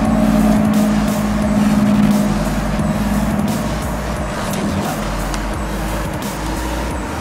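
Twin turbo Erodz car on a test drive, its engine running loud and steady with a low rumble and road noise throughout, a tone rising briefly early on.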